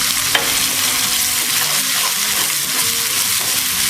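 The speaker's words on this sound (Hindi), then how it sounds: "और हींग के साथ ही साथ इसमें प्याज डाल देंगे हम बारीक काट के रखे।" Finely chopped onions and asafoetida sizzle in hot ghee for a Rajasthani mixed moong-chana dal tadka, a steady close frying hiss with stirring scrapes throughout, no talk.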